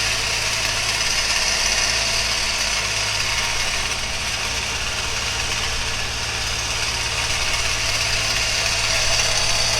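A home-made three-stage radio tower is lowered, probably by winch, under a continuous, even motorized drone with a low hum that stays steady throughout.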